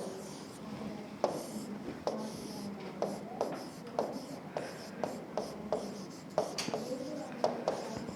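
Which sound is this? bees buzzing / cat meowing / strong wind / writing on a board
writing on a board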